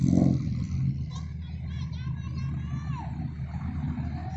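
A loud vehicle exhaust rumbles steadily, with a deep engine drone and a brief rev, while people talk nearby.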